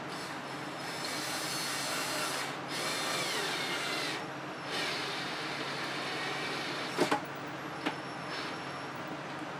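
A power drill fastens small blocks to secure a mahogany table top in a workshop. The motor whirs steadily with short pauses, then gives a few brief clicks near the end.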